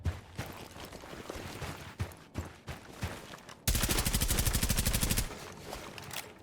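Rapid automatic gunfire shooting open walls in Rainbow Six Siege on console, a loud sustained burst of about a second and a half after scattered softer in-game thuds and footsteps.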